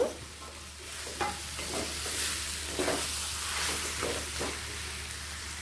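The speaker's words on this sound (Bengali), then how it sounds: "এঁচোড়ের সাথেও আমি আলুটাকেও একই সাথে কষিয়ে নেব" Jackfruit and potato being sautéed together in a pan, with a steady close sizzle and bursts of stirring scrapes at irregular intervals.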